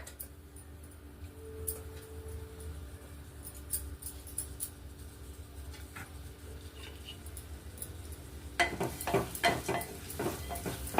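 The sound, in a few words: roasting and stirring moong dal in ghee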